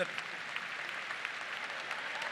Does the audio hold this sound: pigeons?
no